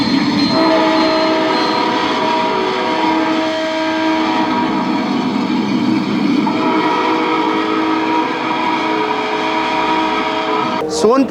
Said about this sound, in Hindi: यहाँ देखिए टॉय ट्रेन सज धज के तैयार है आपको यात्रा कराने के लिए